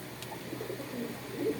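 A pair of local and Pakistani pigeons coo softly in a low, murmuring rhythm, faint and close by in a quiet room, with no voices heard.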